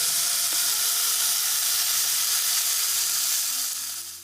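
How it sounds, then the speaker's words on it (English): A steak sizzles loudly and steadily in a hot pan with olive oil inside a campervan, a dense continuous hiss with no talk that eases slightly at the end. "Now it's time to add the steak to the hot pan."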